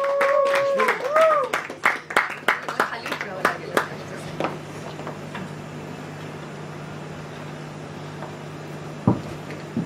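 Audience applause at a Marathi song launch event, with many hands clapping loudly in a burst that tapers off after about four seconds, over a steady background hum, with a voice briefly audible near the start.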